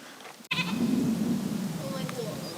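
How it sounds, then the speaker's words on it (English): On Mount Zas on Naxos, a sheep or goat bleats in a drawn-out call somewhere out of sight, heard over wind and hikers' voices. "there's a sheep or a goat"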